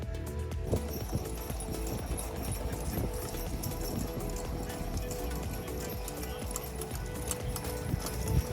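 Horses at the Great Geauga County Fair horse show, with steady clip-clop of hooves and an occasional whinny carrying over a busy, crowded fairground background.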